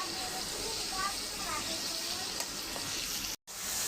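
Onions frying with salt in a pan for a small-fish curry, a steady close sizzle with faint stirring throughout, broken by a brief gap near the end.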